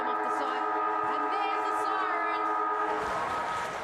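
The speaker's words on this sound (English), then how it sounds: "And there's the siren." A long, steady end-of-game siren sounds at a Northern Territory premier league Australian football match, a sustained multi-tone wail held throughout over faint crowd noise.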